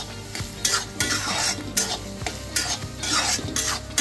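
Dates and cardamom powder being stirred into ghee-rich rava sheera in a pan, repeated scraping strokes of a spoon against the metal over a gentle sizzle, close and rhythmic, no talking.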